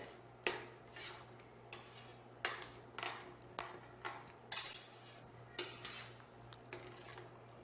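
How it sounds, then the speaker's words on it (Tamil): A spoon scrapes and clinks against a metal pot as milk payasam is stirred to dissolve the sugar, making a rhythmic series of close scraping strokes over a low steady hum. "சேர்த்து சர்க்கரை கரையிற மாதிரி கிளறி விட்டுருங்க"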